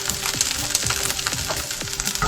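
Fish pizza on a wrap browning in a frying pan, a steady close sizzle and crackle of frying with a few soft scraping stirs, no voices.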